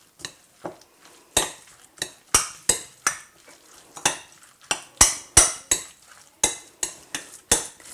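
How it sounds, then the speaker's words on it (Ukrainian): A spoon clinks repeatedly against a bowl while a thick mixture is stirred, sharp irregular taps every half second or so, close and loud. "І тепер все добре перемішую."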